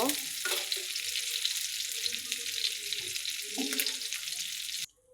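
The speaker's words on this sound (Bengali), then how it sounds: "মাছগুলো ভাজা হয়ে গেছে এখন আমি তুলে নিব" Chapila fish frying in hot oil, a loud steady sizzle lasting most of the clip with a few scraping stirs, cutting off abruptly at the end.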